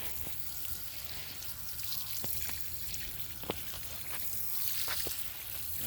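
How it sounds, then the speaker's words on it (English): Water trickles and seeps steadily into potting soil around a pepper plant in a 57-litre pot, with soft fizzing and occasional small drips, close and fairly quiet. "Hit it with some more water."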